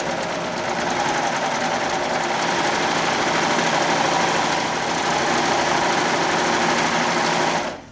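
An embroidery machine stitches the full length of a fabric piece for a curling iron case made in the hoop, giving a loud, steady, rapid mechanical whir and buzz close by that runs evenly and stops abruptly at the end.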